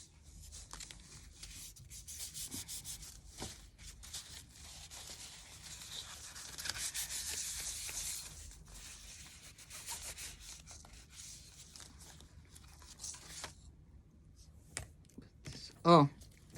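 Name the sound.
sanding a wooden Easter bunny stand with sandpaper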